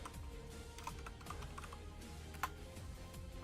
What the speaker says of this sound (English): I'm going to go ahead and type that.